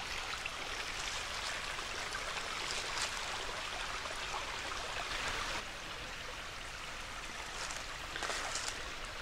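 Water pours out of the ground from an old mine outdoors, a steady rushing, splashing stream with constant broadband hiss, loud and continuous with slight surges, no talk over it.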